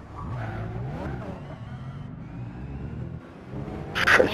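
A Peugeot race car in Gran Turismo 6 drives at speed with rising and falling engine revs, ending in a louder burst of tyre skid, steady and close with no voices.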